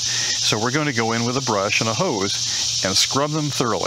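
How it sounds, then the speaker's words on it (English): Cicadas drone continuously in the background outside a circa-1900 Victorian house in the American South or Midwest, a steady high buzzing hum running under a man's close, clear talking. "The sounds you're hearing in the background are cicadas"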